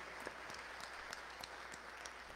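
A church congregation applauding at a Sunday Mass, a dense, faint patter of many hands clapping together, steady for a couple of seconds and heard from a distance.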